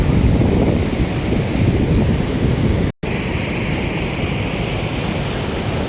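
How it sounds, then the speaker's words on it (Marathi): Steady rushing water of a swollen river in spate after heavy rain fills the recording, a continuous broadband wash with a brief dropout near the middle, loud and close with wind-like noise. "खळखळ आपली अशी गंगामाई नदी आमची कसमाय नदी ती वाहत आहे"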